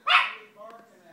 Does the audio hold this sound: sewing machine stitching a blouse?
no